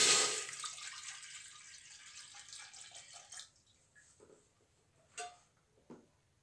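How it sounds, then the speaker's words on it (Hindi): Water poured into a cooking pot for rice kheer, about half a kilo: a loud rushing pour at the start that tapers off, followed by a few faint splashes and clinks. "पहले इसमें डालेंगे पानी।"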